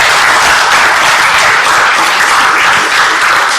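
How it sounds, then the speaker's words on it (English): An audience breaks into loud, sustained applause at an interview event, a dense wash of clapping hands filling the whole stretch without letting up. "I think it deserves a round of applause as well."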